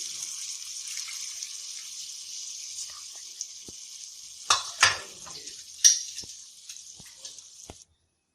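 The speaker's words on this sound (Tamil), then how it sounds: "கரைச்சி வச்சிருக்க புளி தண்ணியை இதில் ஆட் பண்ணுறோம்." Tamarind water is poured into a hot pan and sizzles loudly with a bright hiss, followed by a few clanks of a utensil before it stops.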